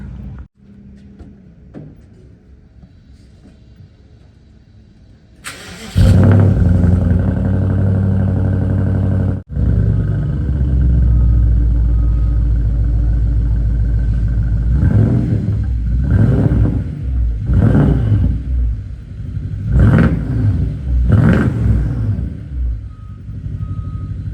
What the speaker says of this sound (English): Go ahead and get it a startup and see what it sounds like with no muffler.